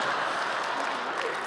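A stand-up comedy concert audience applauds in a dense, steady wash of clapping that fills the whole moment without a break.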